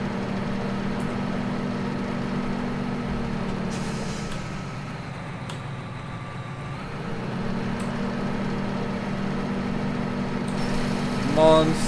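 A big tractor engine idles in Farming Simulator 17 with a steady, low droning hum that dips briefly midway and then settles back to a constant rumble.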